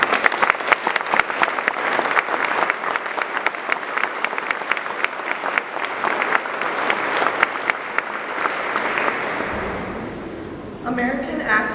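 Audience applause for essay winners walking onto a stage at a South Dakota Right to Life event, steady dense clapping filling the room for several seconds before fading as a voice and music come in at the end.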